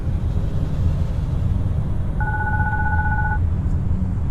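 A phone in the video game Glitchpunk rings once with a brief electronic tone over a loud, constant low rumble of game background noise.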